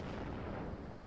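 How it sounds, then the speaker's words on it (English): Artillery fire in the real-time strategy game WARNO, a faint muffled rumbling barrage rolling on through the whole brief moment, distant and low, with no talk over it. "He's lashing out with artillery now."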